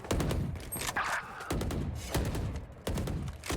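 Rapid bursts of gunfire in a shooter video game, heard as it passes through a wall, with loud, repeated volleys of cracks and thumps that stop and restart several times, close and punchy.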